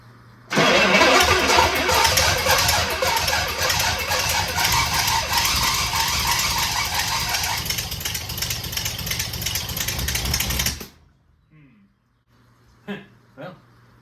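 An engine with a carburetor being started for the first time cranks, catches and runs loudly and roughly for about ten seconds, then cuts off, followed by a few faint clicks and knocks.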